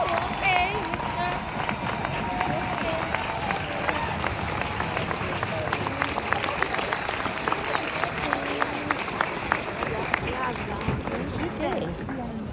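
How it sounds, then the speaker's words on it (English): A large crowd at a military bootcamp graduation applauds veterans and retirees, with sustained, somewhat distant clapping and cheering mixed with murmured voices throughout. "everyone join me in a round of applause for our veterans"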